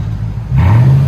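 Close-up of a 2014 Toyota Tundra Platinum 5.7L V8 with a true dual Flowmaster Outlaw exhaust, idling with a low rumble and then revving sharply into a loud, deep exhaust roar.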